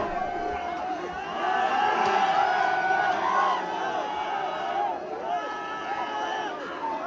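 Crowd cheering and whooping at the Ayyankulangara pooram temple festival, a dense, steady roar of many voices with rising shouts near the middle, fairly close and continuous throughout.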